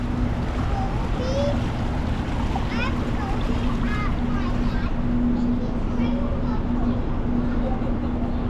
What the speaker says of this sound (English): And you see these little waterfalls right here.